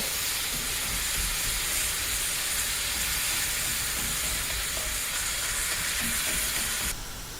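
Ground beef and onion browning in a skillet give a steady, even sizzle with a constant hiss that holds unbroken throughout and softens slightly at the very end, with no one talking.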